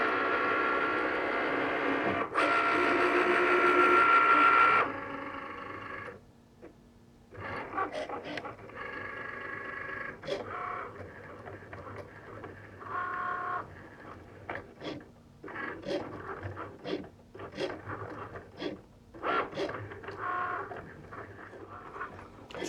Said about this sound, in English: So what's handy about the Cricut Maker is it will actually show you on the screen how much longer you've got left for it to cut.